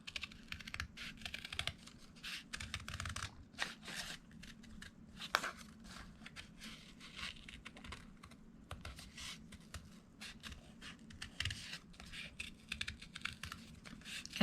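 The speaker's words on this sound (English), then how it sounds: "So I am just cutting this out." Scissors snip through paper while someone cuts out shapes for handmade paper flowers: quick, crisp clicks and rustles in an irregular, close, fairly quiet rhythm with no talking.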